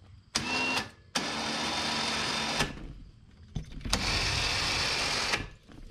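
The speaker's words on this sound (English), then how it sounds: "you're gonna let out some winch cable" A winch on a CFMOTO ZForce utility vehicle letting out cable, an electric motor whine running in two sustained bursts with a short pause and clicks between them, close and loud.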